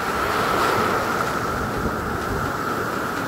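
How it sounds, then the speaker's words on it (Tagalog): Strong ocean surf breaking at a beach in Puerto Princesa, Palawan, heard as a loud, steady wash of rolling waves with wind buffeting the microphone and no voices. "Grabe, lakas ang alon."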